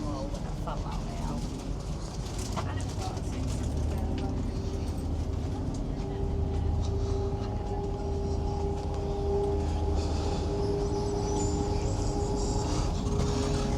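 A steady low rumble and hum inside a five-carriage Avanti West Coast passenger train on the Settle–Carlisle line, constant and even throughout, with faint rattles and no clear talk.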